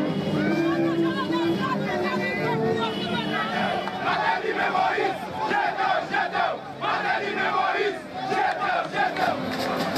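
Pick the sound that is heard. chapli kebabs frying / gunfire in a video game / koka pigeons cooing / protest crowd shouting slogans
protest crowd shouting slogans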